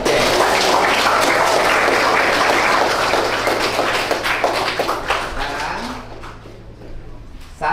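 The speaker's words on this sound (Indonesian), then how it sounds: "Tepuk tangan." Students in a high school maths class in Bogor break into loud, dense clapping that holds for several seconds, then thins out and fades into scattered claps and room noise.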